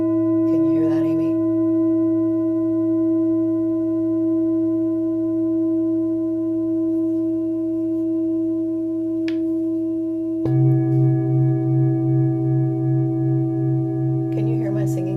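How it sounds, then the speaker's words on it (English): Tuned singing bowls ring during a gentle mat yoga relaxation pose, sustaining steady clear tones throughout, with a fresh strike near the end adding a brighter pulsing wave; a voice speaks briefly over the ringing. "Can you hear my singing bowls?"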